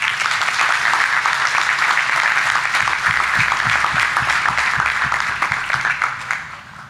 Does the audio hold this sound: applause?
yes